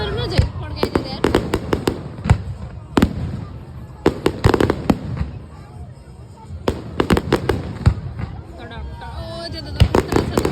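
Fireworks go off at a car park during 2022 New Year celebrations, with loud, sharp bangs and crackling bursts firing in irregular clusters close by while people talk in the background.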